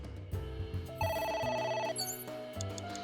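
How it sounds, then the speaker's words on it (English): A phone in the video game AI: The Somnium Files rings with repeated electronic tones over a low, sustained musical drone, the ringing pattern shifting partway through. "It's ringing again."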